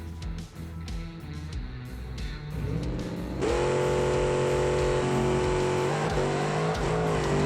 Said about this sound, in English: So there we accelerated all the way.